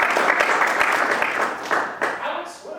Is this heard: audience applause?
yes